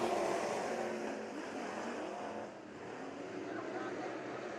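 Sport Mod race cars roar around the Bakersfield Speedway dirt oval in a heat race, a dense, continuous engine drone that swells and dips slightly as the pack circulates, with an announcer talking over it.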